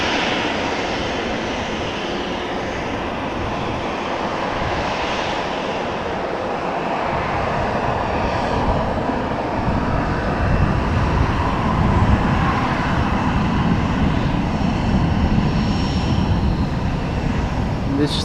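A 24-year-old Transavia airliner, registration PH-HZI, departing Amsterdam Schiphol for Valencia: a sustained jet engine roar that swells gradually and peaks toward the middle before holding strong.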